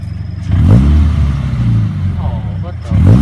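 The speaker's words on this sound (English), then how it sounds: "Wait, rev it now? See the difference in the cold and the warm." A Subaru FRS fitted with a Nameless muffler revs twice, each a loud, near throaty burst rising and falling over a steady idle rumble.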